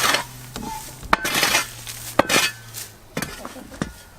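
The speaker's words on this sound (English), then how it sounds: "With a shovel, I just come along and periodically scrape over" A shovel scrapes weeds off timber boardwalks along a vegetable garden path: a series of close, rough scraping strokes with sharp metallic clinks, about four strokes in a few seconds.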